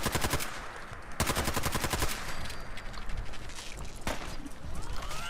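Rapid automatic gunfire from the Silver Shooter weapon in Fallout 4, loud bursts of fast repeated shots with brief pauses, then scattered single shots amid game combat noise.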